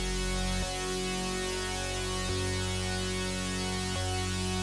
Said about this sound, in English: Then I have a second instance of the chord progression where I only play the first chord over and over again